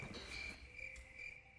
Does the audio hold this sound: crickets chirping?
yes